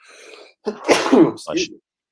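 A single sharp sneeze lands close and loud, its short intake breath leading into the burst, then a brief tail before silence.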